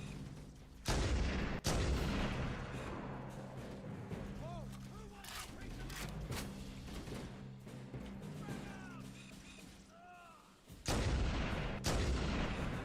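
A turret in a Halo video game fires loud, heavy booming bursts at the start and again near the end, with voices talking in between.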